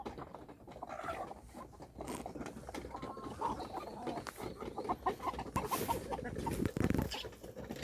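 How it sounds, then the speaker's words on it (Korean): A hen clucks softly in short repeated bursts amid a busy, rustling farmyard background, fairly close but not loud. "여기 엄마 닭 6호는"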